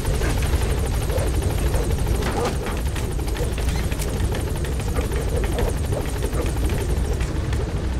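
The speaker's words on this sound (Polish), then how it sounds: "Gdzie jest ten kurna, ta helikopter?" A helicopter in Metal Gear Solid V: The Phantom Pain thrums loudly and continuously, its rotor beating steadily close by with no speech over it.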